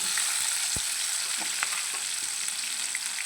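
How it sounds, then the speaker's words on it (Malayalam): Garlic, ginger and green chili fry in hot oil with mustard seeds, a steady bright sizzle broken by scattered small pops and splutters, close and continuous with no talking. "അതുപോലെ കടുക് പൊട്ടുമ്പോഴത്തേക്കിന് നമുക്ക് വെളുത്തുള്ളി ഇഞ്ചി പച്ചമുളക് ഇവയൊക്കെ ഇട്ട് കൊടുക്കാം"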